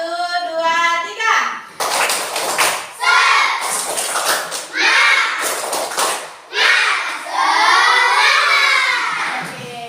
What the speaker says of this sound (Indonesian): kita tepuk semangat dulu ya, seperti biasanya ya